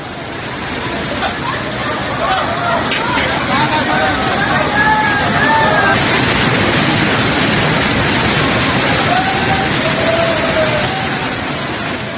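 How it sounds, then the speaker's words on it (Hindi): Floodwater after heavy rain gushes like a waterfall over a temple complex at Jatashankar Dham, a loud, constant rushing roar that covers the whole span, with voices talking faintly beneath it. "यहां जटाशंकर धाम पर पानी का झरना बहने लगा।"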